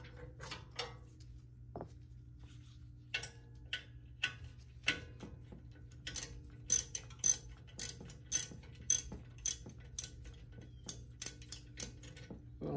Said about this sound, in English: All right, so now let's unscrew this.